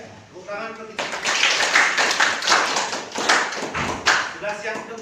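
A class claps in a rhythmic spirit cheer, loud rapid hand claps in a steady pattern, with voices speaking briefly before and after.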